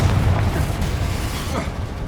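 A Confringo explosion spell in the video game Hogwarts Legacy bursts with a deep, rumbling boom that decays into a dull roar, with a second softer pop near the end.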